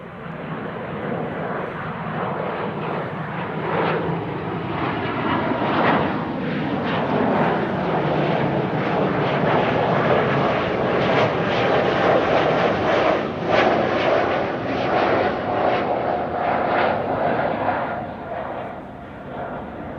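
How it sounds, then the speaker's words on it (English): An Embraer E195-E2 airliner bound for Inverness roars past at Amsterdam Schiphol Airport, a loud, sustained jet-engine rumble that swells and holds over twenty seconds with crackling texture. "E2 Embraer 195 on its way to Inverness in Scotland."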